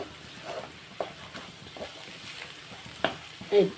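Faint crackling and spattering of tempering spices frying in hot oil, with a few louder pops and stirring scrapes, no voices.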